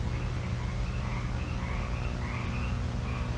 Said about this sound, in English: Damn frogs.